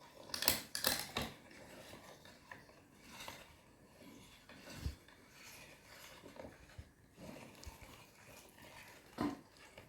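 A small Lidl meat grinder mincing meat with garlic for kefta, heard as faint mechanical clicking and whirring with scattered metallic knocks and a few louder clanks, close by in a quiet kitchen, with no talking.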